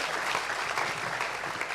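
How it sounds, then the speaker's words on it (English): Round of applause from an audience at a faith-sharing gathering, continuous dense clapping at steady volume with no speech over it. "Why don't we give all these guys a good round of applause."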